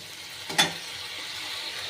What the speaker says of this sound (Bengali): আমি এটা কষে নেব।